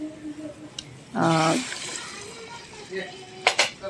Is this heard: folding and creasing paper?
no